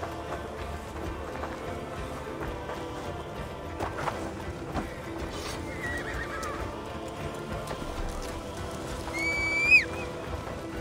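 A horse in the Assassin's Creed Valhalla video game, with hooves clip-clopping at a run under game ambience, then a loud, shrill neigh near the end.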